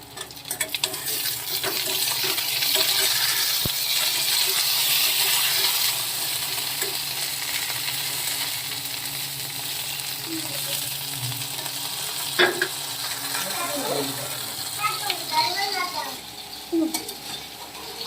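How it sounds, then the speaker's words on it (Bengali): Pointed gourd (potol) fries in a pan with a continuous sizzle, louder early and easing later, broken by occasional clinks of a utensil against the pan and some faint background voices. "পটলগুলো আর একটু ভেজে নেবো লাল লাল করে"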